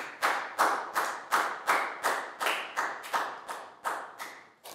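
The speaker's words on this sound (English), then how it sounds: "So big round of applause for everyone." A dozen or so sharp, evenly spaced hand claps, loud and close, each one ringing briefly before the next; no voices.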